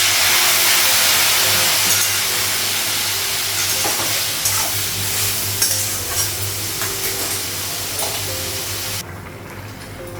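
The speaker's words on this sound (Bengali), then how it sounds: "ঝোলের জন্য জল লাগিয়ে দিয়েছি" Curry frying in a pan on a gas stove with water just added for the gravy, giving a steady, loud sizzle with stirring scrapes throughout before it quiets slightly near the end.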